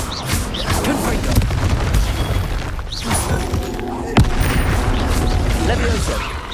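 Fiery Confringo spell blasts erupt during a Hogwarts Legacy duel: loud rolling booms and crashes layered with combat effects and shouting voices, with a sharp explosive crack just past the midpoint.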